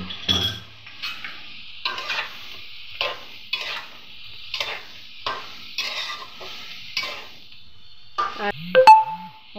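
A spoon stirs eggplant frying in a pan with ginger and garlic paste, a series of regular scraping strokes with light sizzle, ending in a couple of metallic knocks against the pan.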